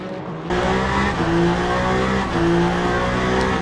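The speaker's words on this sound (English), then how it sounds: "We ended up locking up the tires and going into a spin." Race cars in the Le Mans Ultimate sim at Bahrain, tires locking under hard braking and spinning: a loud, near engine drone with sustained screeching tire squeal rising over the revving, no voices.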